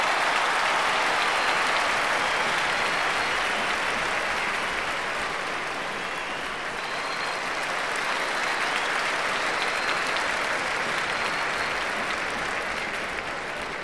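A concert audience at a grand Pongal special gives sustained, even applause welcoming a singer onto the stage, a broad crowd of clapping hands that holds steady for over ten seconds.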